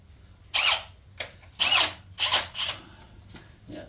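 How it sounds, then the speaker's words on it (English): A genuine Time-Sert core drill, modified with three flats, cuts into an LS engine head during bolt thread repair. It gives four short, close power-drill bursts separated by brief pauses. "This is a genuine time cert core drill, and it's been modified to have 3 flats on it."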